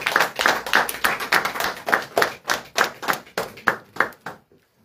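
A church congregation claps in a steady rhythmic beat, many hands striking together in loud regular pulses for several seconds before stopping abruptly.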